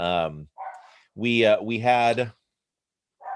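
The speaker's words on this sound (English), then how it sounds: "I apologize for my dog barking." A dog barks close by in a few short bursts, with a man lecturing before and after the barks.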